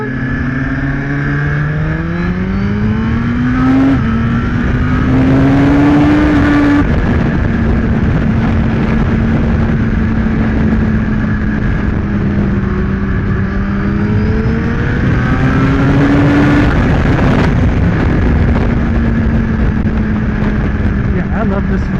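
A Suzuki GSX-R1000R motorcycle engine revs and pulls hard while riding, its pitch climbing and dropping through the gears as a loud, sustained roar under wind noise, with a voice speaking over it.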